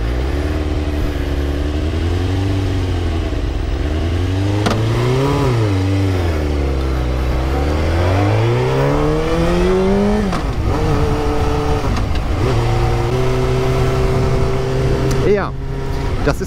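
A Suzuki GSX-R 600 K2 sport motorcycle revving up and down through several rising and falling sweeps before settling into a steady high idle, loud and close.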